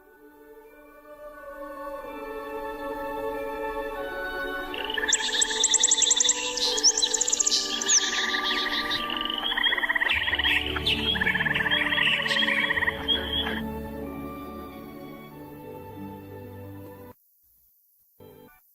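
Birdsong added as an audiobook sound effect: many birds chirp and warble together in a dense, bright, continuous chorus, with croaking tones underneath, before it fades out near the end.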